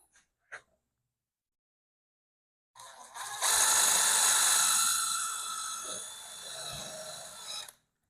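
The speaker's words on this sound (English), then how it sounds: "Get my handy dandy drill bit out." After a brief click and a pause, a power drill whirs loudly at close range for about four seconds while building a bird feeder, its pitch easing slightly before it stops.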